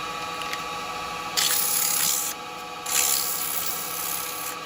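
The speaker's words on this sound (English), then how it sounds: "let's do some sanding on that then" Steady abrasive rubbing of sandpaper against a maple tea light holder spinning on a lathe, in two louder hissing passes over a constant motor hum.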